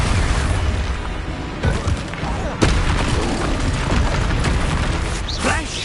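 Expulso spell blasts in Hogwarts Legacy combat: booming magical explosions with a sharp burst near the middle, amid continuous crackling battle noise and a voice casting spells.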